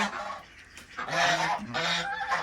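Swan geese in Pune honk loudly and close by, giving a quick run of harsh, nasal calls that overlap one another in a short, continuous burst.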